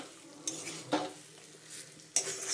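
Fried meat is stirred into masala in a pan, low sizzling under several distinct scraping and clattering strokes of a spatula against the pan, close and fairly quiet, without voices.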